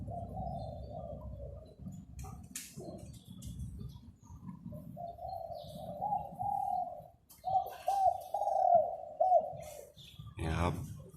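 A newly acquired dove-like bird gives soft 'si kuk ha kuk' coos in the morning, phrases growing stronger midway, with low background rumble and a brief voice at the end.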